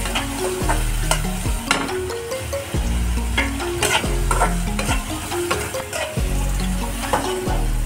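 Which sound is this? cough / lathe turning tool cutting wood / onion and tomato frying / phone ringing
onion and tomato frying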